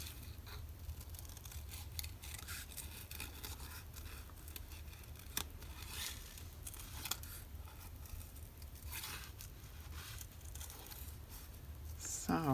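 Scissors snip through paper near the microphone while an old memory card is cut out, soft intermittent crisp cuts and rustles over a low, quiet background.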